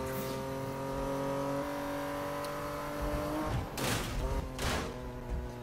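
A BMW in Need for Speed (2015) drives with a steady engine drone that climbs in pitch, then bursts of tyre squeal and rushing noise toward the end, loud and close with no talk.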